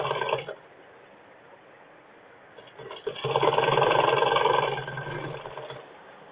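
A sewing machine runs in short bursts while a school uniform skirt's shoulder seam is stitched, a steady close whirring rattle that stops and restarts.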